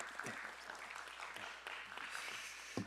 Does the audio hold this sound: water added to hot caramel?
no